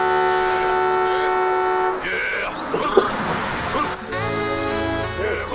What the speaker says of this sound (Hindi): हॉर्न बजा रहे हैं, सुनाई नहीं देता है क्या?